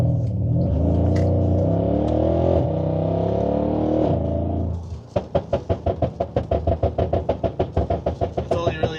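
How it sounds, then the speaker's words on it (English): A Mercedes-AMG, either a GLC63S or E63, revs its exhaust with a loud sustained roar up close, then settles into a rapid series of sharp rhythmic pops and bangs. "You can't even hear me because of the exhaust."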